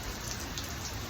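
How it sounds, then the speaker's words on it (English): Steady, heavy pouring rain in Bora Bora, a dense even wash of drops falling close by with no other sounds. "Bora Bora and it's pouring rain, but I don't care."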